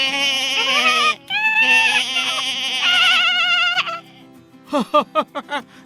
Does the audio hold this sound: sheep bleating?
yes